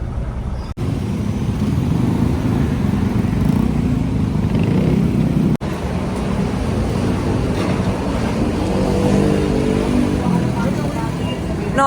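A car's engine roars steadily as it speeds through traffic in Makati, Philippines, with a constant rumbling drone and road noise, no clear talking.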